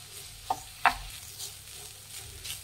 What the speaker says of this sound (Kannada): ಮಿಕ್ಸ್ ಮಾಡಿ.